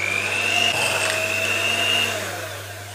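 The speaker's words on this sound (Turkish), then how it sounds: "Birinci yumurtamı ilave edip hamuruma yedirene kadar mikserle karıştırıyorum." An electric hand mixer whirs steadily with a high motor whine while mixing choux pastry dough with an egg, then slows and fades toward the end.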